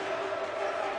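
A crowd cheers as a roller hockey team and its fans celebrate after a match, a steady wash of voices and cheering heard at a distance.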